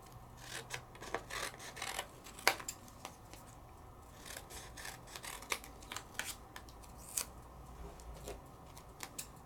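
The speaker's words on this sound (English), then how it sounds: "I'm going to trim my paper down." Paper being trimmed down for card crafting, a series of quiet, scattered snips and scraping cuts irregularly spaced over several seconds against a soft room hum.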